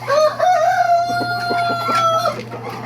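An SBR gamefowl rooster crows close by in a backyard, one long rising and falling call with soft clucks beneath it, over a steady low hum and no talk.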